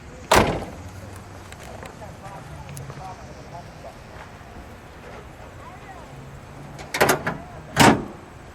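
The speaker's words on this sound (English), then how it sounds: "Let's shut the door." The door of a 1979 Pontiac Trans Am in Atlantis Blue with the T/A 6.6 engine shuts with a solid, close thud, followed later by a couple more sharp thumps over quiet outdoor background.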